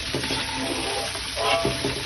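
Shrimp fry in a pan with a steady sizzle, broken by a few short scraping stirs of a utensil against the pan, close and fairly loud throughout.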